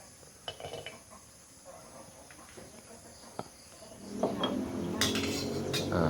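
Chili, shallot and lemongrass dry-roast in a pan, soft light scraping and clinks of a utensil over a quiet backdrop of chirping insects, growing a little louder and busier toward the end.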